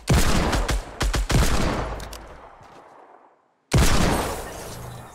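Gunfire in the battle-royale game Fortnite cracks out as a loud burst of several quick shots, then one big blast with a long fading tail, a brief silence, and another heavy shot.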